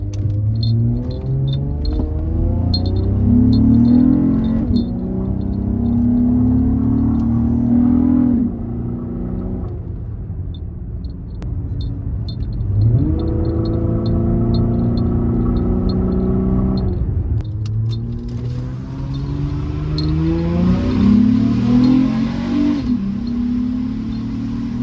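An Acura RL engine fitted with a throttle body spacer revs in several rising and falling pulls from inside the car, the pitch climbing and easing back, with a light jingle of keys over the steady hum.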